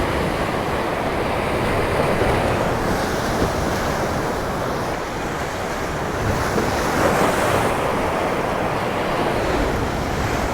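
Ocean surf rolls and breaks continuously on a shoreline facing south, a steady broadband wash with swelling crests and some wind buffeting the microphone, no voices.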